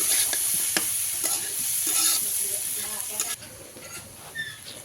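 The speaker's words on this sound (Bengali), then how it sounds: "তারপর দিয়ে দিব কেটে রাখা লাউয়ের টুকরাগুলো। একটু ভালো করে এগুলোকে মিক্স করে নিব।" Gourd pieces tossed with onion, chilli, salt, turmeric and spices in a hot pan, a spoon scraping and stirring steadily over a continuous close sizzle of frying.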